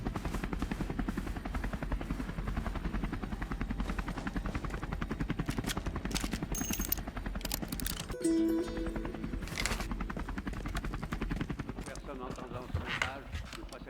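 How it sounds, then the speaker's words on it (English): A helicopter's rapid rotor chop pulses steadily throughout as helicopters patrol Manhattan in the video game Kona II: Brume, with a voice speaking over it and some brief electronic tones midway. "Les hélicoptères patrouillent le secteur de Manhattan."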